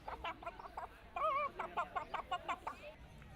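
A chicken clucks in a quick string of short, bright calls, with one wavering cackle partway through, close and moderately loud.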